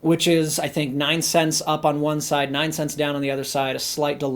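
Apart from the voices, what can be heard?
No everyday noises stand out.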